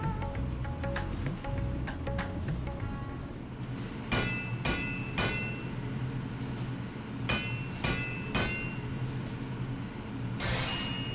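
Metal hammering at a forge in Final Fantasy XIV rings out as sharp clinking strikes, a few close blows spaced irregularly over a low, busy background.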